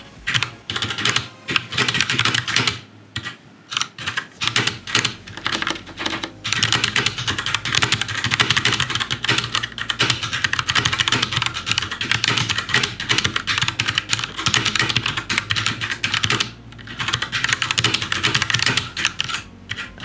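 Fast, continuous clattering of keys on a custom 65% mechanical gaming keyboard, close and loud, with a couple of short pauses between bursts of typing.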